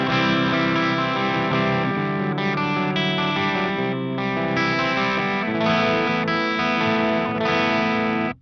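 An electric guitar runs through a Friedman IR-X preamp pedal, playing a continuous loud, edge-of-breakup chord passage with ringing sustained strums, close and unaccompanied.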